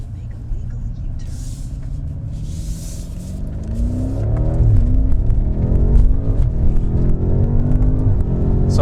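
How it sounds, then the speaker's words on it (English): A BMW M5 F90 in two-wheel drive mode with DSC off accelerates hard through the gears, its engine note climbing loudly, dropping at each shift and rising again with a steady rumble throughout. "So I've just accelerated hard through the gears in two-wheel drive mode, DSC off"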